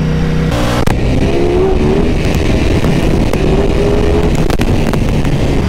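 A 2018 Ducati Panigale V4 roars loudly while being ridden in street mode, its engine note climbing in pitch through the gears against heavy, constant wind rush, with brief sharp pops along the way.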